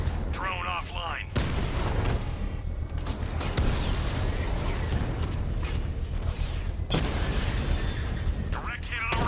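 Explosion hitting the Rattler in the Batman Arkham Knight video game, a sustained rumbling blast with creaking mechanical noise, with brief game voice lines at the start and end.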